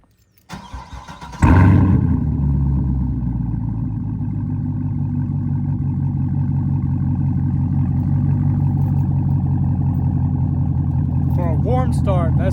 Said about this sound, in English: we're going to start this by pressing max, and we're going to get a good warm start because the car did just drive for about 30 minutes